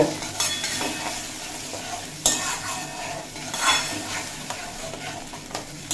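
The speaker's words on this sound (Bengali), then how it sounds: "বাটিটা ধুয়ে অল্প জল অ্যাড করে দেব দিয়ে খুব ভালোভাবে কষিয়ে নেব" Soybean curry spice paste sizzling and sautéing in a pan with a little water, stirred steadily with scrapes and occasional utensil knocks against the pot, continuous and close with no talk.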